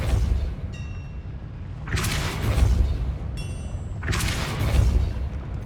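Two forceful Depulso spell blasts from Hogwarts Legacy, each a broad whooshing burst with a deep booming thud, a couple of seconds apart over a low rumbling game background.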